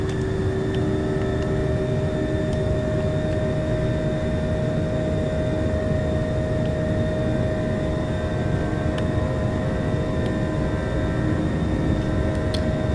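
Airliner jet engines roaring at takeoff power in Microsoft Flight Simulator X, a loud, steady broadband rumble with constant whine tones throughout, no voices.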